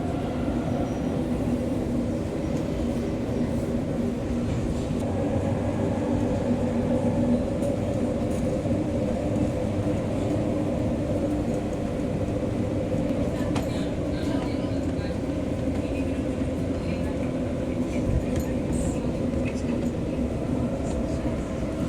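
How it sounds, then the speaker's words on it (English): A monorail train passing in Kuala Lumpur, a steady low rumble and whine of the rail cars running continuously at a fairly close distance, with someone talking over it. "Comes another train the other way."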